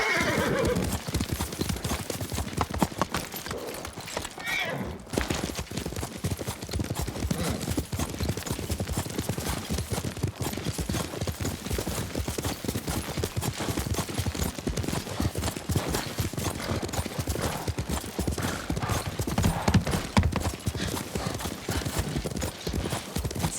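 Galloping horse from the video game Ghost of Tsushima, rapid steady hoofbeats pounding throughout with the horse whinnying loudly near the start, and characters talking over the ride.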